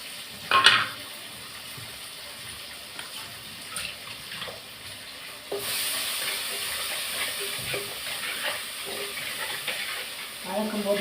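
Ground shallot and garlic paste is sautéed in a pan for garlic kulambu, with a soft sizzle and stirring that starts quietly, gives a sharp clatter early on and swells into a steadier hiss midway.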